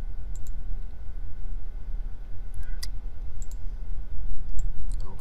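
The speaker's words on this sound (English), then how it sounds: "I'm going to double click and load our packet tracer activity." A computer mouse double-clicks to open a networking simulation file, giving short sharp clicks over a steady low room hum, with no one talking.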